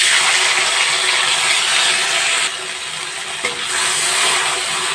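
Spice paste hitting hot oil already holding cinnamon, black and green cardamom and bay leaves for dum pulao, a loud sizzling hiss that briefly dips, then resumes with stirring.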